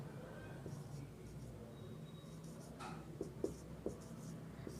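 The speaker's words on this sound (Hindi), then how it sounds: "तो यहाँ पे लिख देते हैं" Chalk or marker scratching across a board during a maths lesson, a few short taps and strokes near the end over a steady low room hum, fairly quiet.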